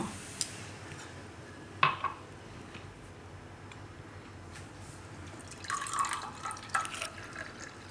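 Prickly pear fruit juice trickles and drips into a glass in a quiet room, with a sharp clink early on and a few more light clinks and splashes near the end.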